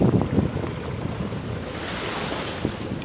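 Choppy sea in the Kattegat slaps around a sailboat motoring toward Anholt, with steady wind buffeting the microphone and a continuous rushing wash, close and loud.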